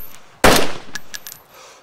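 A single loud, close gunshot from a .45 pistol in the video game DayZ, a sharp crack with a short decaying tail followed by a few faint clicks and clinks.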